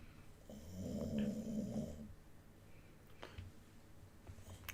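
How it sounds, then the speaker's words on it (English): A dog grunting at close range, a low, rough, snore-like rumble lasting about two seconds, followed by quieter breathing noises, with no talking. "This is my dog grunting."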